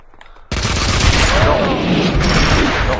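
A grenade blast in the 2003 PC shooter Max Payne 2 bursts in loud and close after a brief quiet lead-in, then rolls on as a dense, roaring wash of noise for several seconds.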